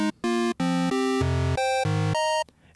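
A bright synthesizer pad with its second oscillator pitched up seven semitones plays a quick sequence of sustained, buzzy chords, each stacked with a second tone a fifth above, ending in a soft fade.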